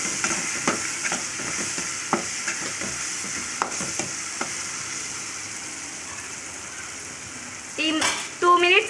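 Tomato rice with garam masala is stirred in a frying pan, a steady sizzle under repeated scraping strokes of the spoon, with a louder clatter near the end.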